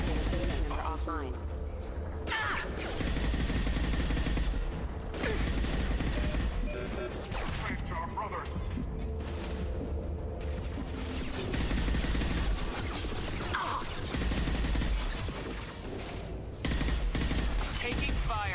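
Continuous gunfire and explosions from the sci-fi shooter game Mass Effect 2 (PS4 Legendary Edition), dense bursts and heavy impacts running loud throughout, with a voice speaking over the combat at times.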